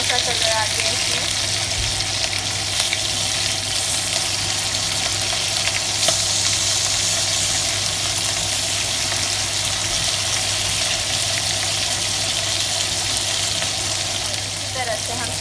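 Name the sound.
mutton chops frying in a pan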